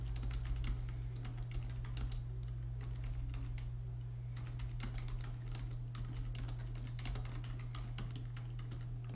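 Fingers type text on a computer keyboard, a quick irregular run of close key clicks over a low steady hum, with no talking.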